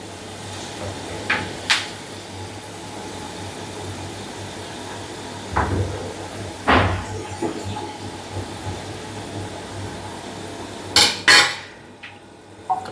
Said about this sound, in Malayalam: നമുക്കൊന്ന് പ്ലേറ്റിലേക്കിട്ട് കോരിയിടാം